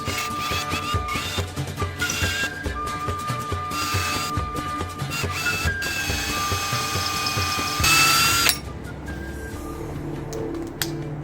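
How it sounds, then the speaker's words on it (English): A continuous whirring, grinding drill runs steadily boring a hole into wood for several seconds, briefly louder near the end, then stops and leaves faint mechanical noise. "Carefully drill a hole straight into the center."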